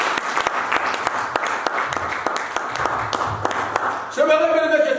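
A church congregation applauds during a French-language sermon, dense steady clapping filling the space for several seconds before it gives way to a sung or sustained voice near the end.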